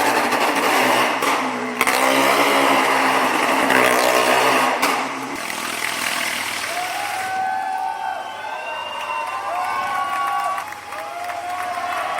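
Motorcycle engines starting and running at a biker festival, with a broad, loud rumble and revving over crowd noise; the engines settle into a steadier idle with some higher whine toward the end.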